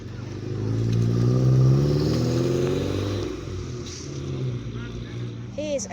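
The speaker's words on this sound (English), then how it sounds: "MR2's coming down." A Toyota MR2 passes at a classic car meet outside a country pub, its engine swelling as it approaches and fading away, with people chatting nearby over it.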